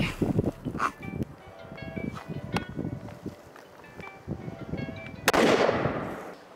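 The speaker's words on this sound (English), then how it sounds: "This is just a test to, so see how the suppressor is first. We're gonna just shoot one." A suppressed .308 rifle fires a single test shot outdoors: a sharp, loud crack near the end, preceded by several lighter knocks and handling sounds, with breezy background noise.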